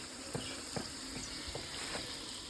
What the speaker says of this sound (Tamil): போட்டு வதக்க தக்காளி வதங்கும்